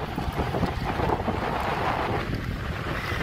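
Ocean waves wash onto a beach where the surf is good for boogie boarding, a steady roaring rush of water blended with gusty wind buffeting the microphone.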